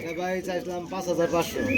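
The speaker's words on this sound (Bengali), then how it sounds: "মাদি কবুতর ঠিক আছে মাদিরাও কিন্তু একটা সময় কিছু ডাকে" Soft, repeated pigeon coos, close by, in short overlapping bursts with faint background chatter.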